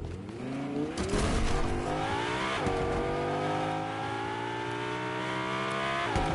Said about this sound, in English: I'm going to get in this car and like scoot off